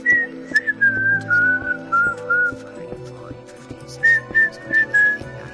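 Someone whistles a wavering tune in two bursts during a Minecraft game session, clear and close, with a quiet pause between phrases and faint background voices and clicks.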